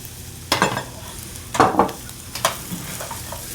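Scrambled eggs are stirred in a hot pan: three distinct scraping, sizzling bursts of stirring stand out over a quiet background hiss, close up, with no voices.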